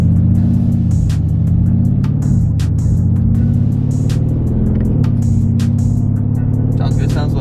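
Straight-piped Mercedes GLE 63 AMG exhaust, loud and close, rumbling at a deep idle with a couple of blips of throttle that rise and settle, dominating throughout.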